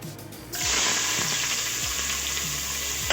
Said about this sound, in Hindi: तो अब तेल गरम हो गया, तो इसमें मैं अभी प्याज डालूँगी